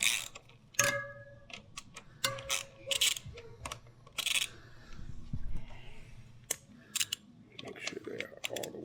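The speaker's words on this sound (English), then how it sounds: "Loosen the other side fork lug bolts." Tools work loose the fork lug bolts on a motorcycle, giving a run of crisp metallic clicks and ticks in uneven bursts with a few clinks, close by, with some background noise between them.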